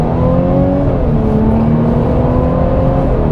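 The engine of a 2021 Mercedes-Benz E350 4Matic luxury sedan hums steadily and close, a smooth continuous drone with faint rising harmonics and no talk over it.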